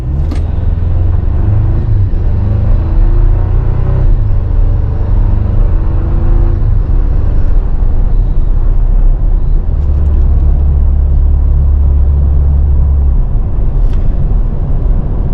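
A 2024 Toyota Tacoma SR5 4x4 pickup with a 2.4-liter turbo four pulls away down a road. Engine and road rumble hold steady under a smooth rising whir from inside the cab, with no speech.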